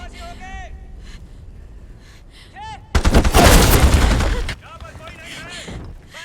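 Heavy gunfire from a Terminator Salvation battle scene bursts in as a loud sustained volley of about a second and a half, set between stretches of tense voices and shouting.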